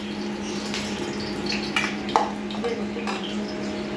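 Pointed gourd (potol) frying in oil in a wok, a steady soft sizzle with occasional stirring clinks and scrapes of a utensil against the pan, close and continuous.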